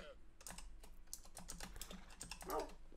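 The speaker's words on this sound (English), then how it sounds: "Ah, I can't even type." Rapid, uneven typing on a computer keyboard, soft clicking keystrokes in quick bursts, close and fairly faint, with a brief voice near the end.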